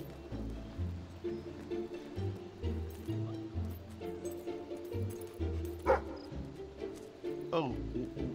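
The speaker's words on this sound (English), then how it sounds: "Oh, my dog is on the hunt. My dog found something down here, Stubbs" A dog barks in the video game Fable 3 while it hunts for a dig spot: a few short, mid-loud woofs over steady game sounds, with someone talking throughout.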